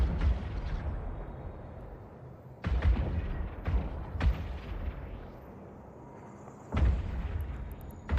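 Ship weapons firing in the space video game EVE Online, heavy booming shots at irregular intervals, several separate blasts with rumbling decay between them.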